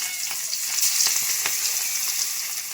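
Masala-coated stream fish frying in a pan, a dense continuous sizzle with crackling pops scattered through, close and fairly loud with no voices.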